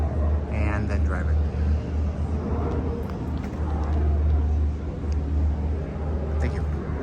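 A 1958 Chevrolet Biscayne on radial tires drives along with a continuous low engine rumble and road noise, loud and close throughout.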